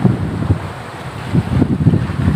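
Sea breeze by Naga Bay buffets the microphone in low, gusty rumbles that rise and fall unevenly, loud and close, with no voices over it.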